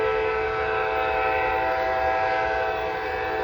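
A train rolls through downtown Cowan, Tennessee, its steady loud rumble holding throughout with sustained horn-like tones layered on top, close by and without pause.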